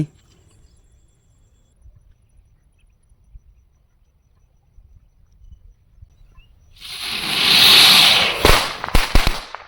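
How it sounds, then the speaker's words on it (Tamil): A small Bijili firework rocket hisses as it launches, then bursts into a rapid, loud crackling string of pops at close range after a few quiet seconds. "ஃபஸ்ட்டு பறந்துச்சு அப்படியே வந்து வெடிச்சிருச்சிங்க"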